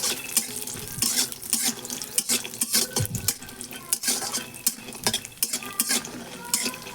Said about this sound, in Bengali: বড়িগুলো দিয়ে দেবো। নেড়ে নেবো হালকা করে।